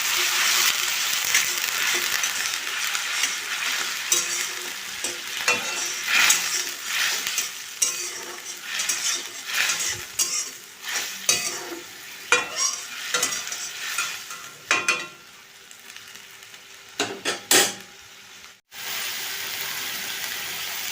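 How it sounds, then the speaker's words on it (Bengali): A ground spice paste loosened with a splash of water fries in a pan for a bottle gourd curry, a loud continuous sizzle broken by repeated scraping stirs, briefly dropping out near the end before resuming. "একটু জল দিয়ে দিলাম, মশলাটা যাতে ভালো করে ভাজা যায়।"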